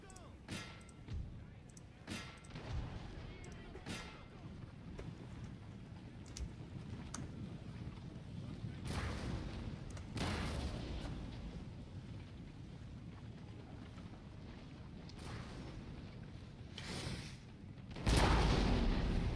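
Artillery fires in a barrage in the video game Napoleon Total War, Victorian Era mod. Distant booms and cracks keep coming over a rumbling battlefield bed, with a louder, closer blast near the end.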